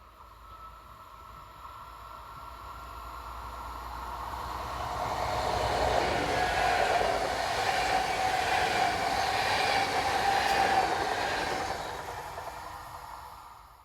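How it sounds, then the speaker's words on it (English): A Westfalenbahn class 446 electric multiple unit passes heading east, its rumble and rail noise building to a loud peak in the middle with a sustained whine, then fading away, with no talk. "Westfalenbahns 446004 heads east."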